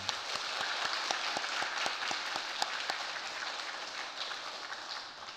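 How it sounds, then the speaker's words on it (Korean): A church congregation applauds a visiting missionary during a Sunday worship service, producing steady, dense clapping with a few sharper individual claps standing out, sustained evenly throughout at moderate volume. "우리 선교사님에게 박수로 격려하도록 하겠습니다."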